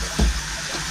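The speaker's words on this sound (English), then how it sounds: "So we just give that a quick rinse off with water" Water splashes briefly over an aluminium motorcycle part as it is rinsed off after blasting, a short burst of running water standing alone.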